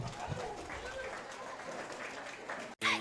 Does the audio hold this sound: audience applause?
yes